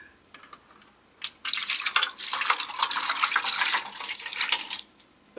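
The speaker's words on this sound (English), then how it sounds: "Let's pour in the H2O." Water is poured into a container for a toy to swim in, giving a steady splashing gush after a few brief drips. It runs loud and continuous for about three seconds, then stops.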